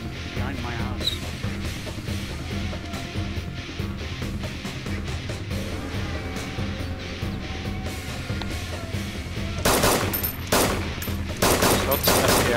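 Gunfire in DayZ rattles through a firefight near Berezino, starting as a steady stream of distant shots and turning into loud, sharp close-range bursts toward the end, with people talking over it.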